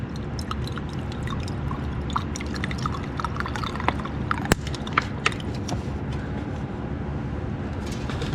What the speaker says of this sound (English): Pour some fuel in.